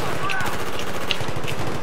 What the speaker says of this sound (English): They're shooting in through these windows.